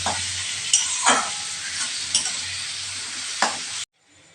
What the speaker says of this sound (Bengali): পেঁয়াজ আর লঙ্কাটা হালকা ভাজা হয়ে গেছে।